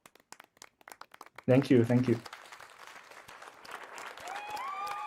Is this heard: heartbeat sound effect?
no